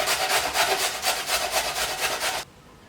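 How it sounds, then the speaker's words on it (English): Carrots being finely grated by hand on a grater for vegetable stock, a close run of rhythmic rasping strokes, about ten in quick succession, that stop abruptly with no talking. "3 carrots, finely grated."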